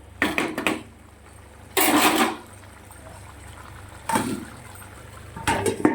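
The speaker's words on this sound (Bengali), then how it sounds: "এবার এটা কিছু সময় গ্যাসটা কম করে দিয়ে কষাতে থাকবো" Soybean curry masala is slow-fried in a pan over low gas. Three or four distinct bursts of scraping and stirring rise over a faint, continuous sizzle.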